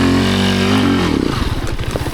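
Enduro motorcycle on an off-road trail: a loud, steady engine drone near the mic breaks into rapid, choppy revving pulses as the clutch slips.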